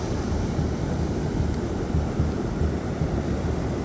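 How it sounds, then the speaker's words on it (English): Strong, steady wind of about 15 to 20 miles per hour sweeps across Rosarito Beach in Mexico, roaring into the microphone as continuous low buffeting, with blown surf blended into the rush. "A lot of wind though, super windy, 15-20 miles"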